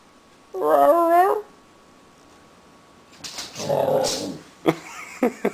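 A husky vocalizing on command, a drawn-out whiny howl followed by a lower grumbling moan and a few short yips, close and clear, with quiet gaps in between.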